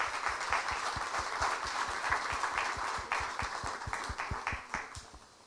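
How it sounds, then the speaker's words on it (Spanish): A church congregation applauding, with a steady wash of many hands clapping and rhythmic low thumps beneath it, sustained and then gradually fading toward the end. "Vamos a dar un aplauso a Dios antes de comenzar."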